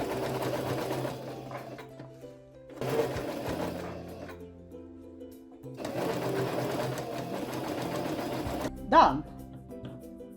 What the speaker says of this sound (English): Sew the padding in place.